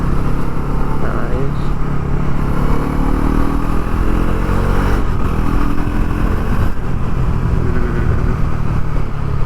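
A 2025 Bajaj Pulsar NS400Z motorcycle being ridden, its engine a loud continuous drone with rising throttle and heavy wind rush over the microphone, while a voice talks beneath the noise.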